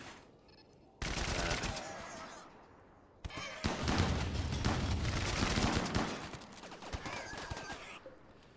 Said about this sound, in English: There comes the chonking of machine guns.